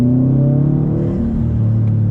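A 2018 Subaru WRX STI rolls slowly in second gear over speed bumps, its engine giving a steady, loud, close low rumble with a slight rise and dip in revs and no talking.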